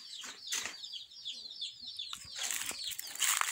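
A naked neck hen clucks softly among her chicks, whose high thin peeping runs almost continuously over the hen's low calls, with a brief flutter of wings, fairly quiet and close.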